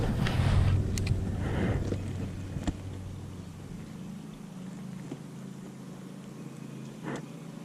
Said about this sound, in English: Sorry about the lawnmower in the background.